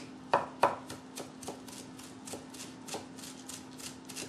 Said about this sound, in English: So you chop this, all of the leaf, again, throwing away the stem